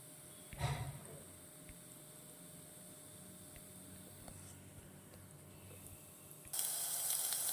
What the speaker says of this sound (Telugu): ఆయిల్ హీట్ ఎక్కినాక ఇవన్నీ వేసుకోవాలండి